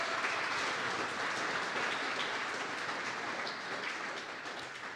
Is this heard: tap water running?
no